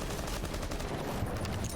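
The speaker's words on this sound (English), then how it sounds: "Just going to open up that door via gunshots" A rapid volley of gunshots blasts at a door in the tactical shooter Rainbow Six Siege, the shots dense and close, running together into one loud burst. No voices are heard.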